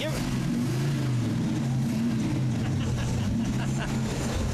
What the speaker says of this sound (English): Let's hear what Al's trucks are.